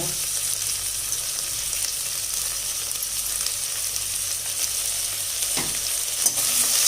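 Mint and coriander leaves sauté in a hot pan with a continuous, close hiss and sizzle, steady and unbroken, with occasional faint stirring scrapes and no talking.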